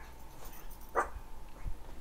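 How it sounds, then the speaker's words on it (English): A dog gives a single short bark in the background, faint and distant, with a couple of soft thumps around it in an otherwise quiet room. "the other dog's barking now"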